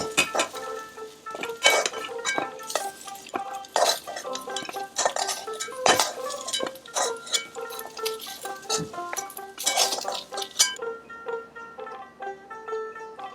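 Cooked raw jackfruit being scooped out of a pan, with a busy run of metal spoon scrapes, clinks and knocks against the cookware, close and fairly loud, continuing throughout without speech.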